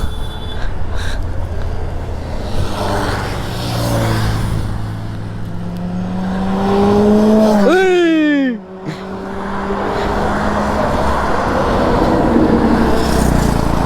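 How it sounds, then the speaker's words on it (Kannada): A high-revving superbike screams past up close, its engine pitch climbing sharply then dropping away, over steady road and wind rumble. "ಈ ರೋಡಲ್ಲಿ ಮಾತ್ರ ಸೂಪರ್ ಬೈಕ್ಸ್ ಹೆಂಗೆ ಹೋಗ್ತವೆ"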